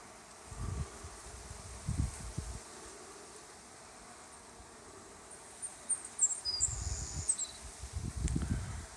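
Honey bees buzz at a busy hive entrance on a summer day, a soft continuous hum with faint low rumbles of outdoor movement and wind.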